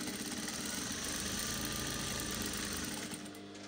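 A sewing machine runs steadily, stitching jumpsuit fabric at a wide-leg seam, with a continuous close mechanical whir that eases off near the end.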